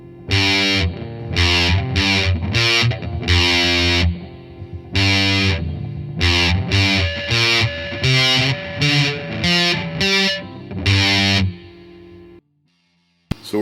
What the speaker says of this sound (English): we're back on the Nano Big Muff, and I'm going to attempt to do the Black Keys riff